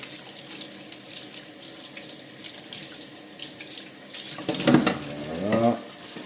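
Plastic model kit sprues for an Ork boss miniature rinsed under a running tap, a continuous close rush of water splashing into a sink, with the flow shifting briefly as the parts are moved through it.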